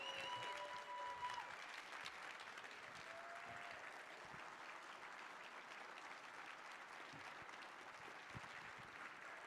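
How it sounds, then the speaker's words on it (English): Conference audience at SAINTCON 2022 giving a round of applause, a steady wash of many hands clapping that holds evenly throughout, sounding soft and somewhat distant in a large hall. "everyone give Troy a big thank you and a round of applause"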